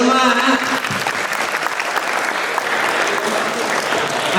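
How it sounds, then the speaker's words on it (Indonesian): Dense, loud applause from a school audience at a morning motivational assembly, sustained clapping throughout with a voice briefly heard at the start. "Tepuk tangan untuk kita semua."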